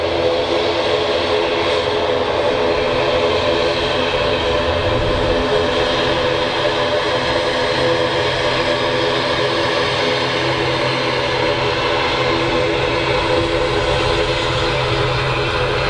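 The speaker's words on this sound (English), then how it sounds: "Love the sound on these ATRs." ATR turboprop airliner at Manchester Airport, its engines and propellers giving a loud, steady droning hum with a constant tonal whine that holds evenly throughout without any talking.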